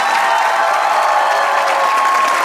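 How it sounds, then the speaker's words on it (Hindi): A studio audience on the Pakistani comedy talk show Hasna Mana Hai claps in steady, loud, continuous applause throughout. "ताली होनी चाहिए आपके साथ।"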